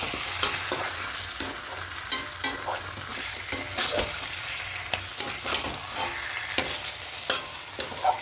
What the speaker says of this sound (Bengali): এবার চিকেনটা দিয়ে খুব ভালো করে মশলার সঙ্গে মাখিয়ে নেব